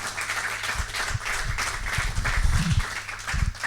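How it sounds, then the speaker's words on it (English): A meetup audience claps for the panel after a farmer-finance session, a moderate scattered applause with low thuds and some voices mixed in, building slightly midway. "a big applause for our lovely panel"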